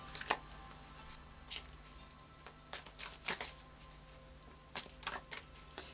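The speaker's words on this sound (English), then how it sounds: "And a final shuffle now of the After Tarot cards." Tarot cards are shuffled by hand at a table, making soft, irregular riffling and patting bursts that come in scattered clusters over a low steady background hum, with no talking.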